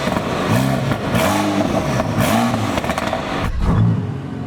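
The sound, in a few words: car engine revving with exhaust valves open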